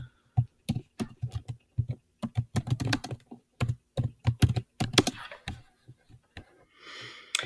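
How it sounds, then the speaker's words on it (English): Keys clack on a computer keyboard while a quote is typed onto a note card from a book, in quick irregular bursts of crisp taps with short pauses, close and alone. "And then you can type your quote onto the note card from your book."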